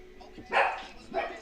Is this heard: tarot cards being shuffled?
no